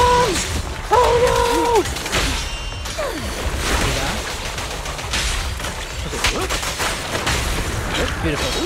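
Bombs go off in Zenless Zone Zero amid rapid game combat effects, a string of bursts, impacts and mechanical noises along with tonal chimes, while a player talks excitedly over the action.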